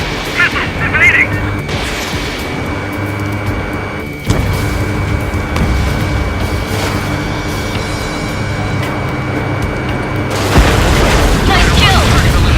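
Missile explosions in the Ace Combat 7 jet combat game boom through a dense, loud roar of engine noise, with a heavy blast near the middle and another near the end, alongside radio voices.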